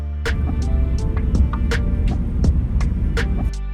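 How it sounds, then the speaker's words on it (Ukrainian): The cooling fans of an RX580 2048SP graphics card idle with a low, steady hum, close up, and faint ticking clicks scattered over it. "Також ще один мінус це шум вентиляторів, а він доволі сильний, повірте."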